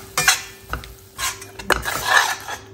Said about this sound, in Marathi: स्लो गॅसवर आहे ना, गूळ छान भितळून घेणार मी.